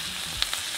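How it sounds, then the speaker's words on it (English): Butter melting with thyme in a hot pan while a strip filet mignon cooks, giving a faint, steady sizzle with a couple of tiny pops, heard close and alone without any talk. "now that the butter is melting, just let it cook with the thyme like that"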